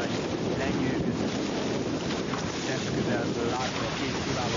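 Tornado catamaran racing at high speed, recorded from an onboard camera, with loud continuous wind buffeting and rushing water spray throughout, no clear voices.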